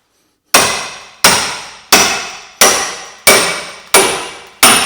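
A big hammer delivers seven evenly spaced, loud metallic whacks on a Vauxhall Corsa C wishbone, each sharp strike ringing off before the next, with no talk.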